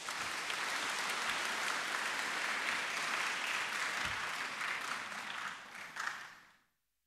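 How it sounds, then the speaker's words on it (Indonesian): A church congregation at Sunday Mass bursts into sustained applause, a dense wash of many hands clapping that fades out after about six seconds, with no talking over it. "Mari kita berikan tepuk tangan dulu."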